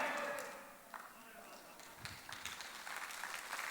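Scattered clapping from a church congregation during a Sunday service builds into steady applause, heard at a distance in a reverberant room.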